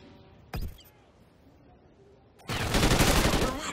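Gunfire in the video game Call of Duty Ghosts: a brief single shot burst, then a loud sustained volley of rapid automatic fire that runs to the end, heard over quiet game background.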